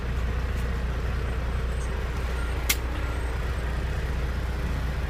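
Heard from inside a Kenworth truck at a truck drag racing event, the engine gives a steady low rumble that stays constant, with one brief sharp hiss partway through.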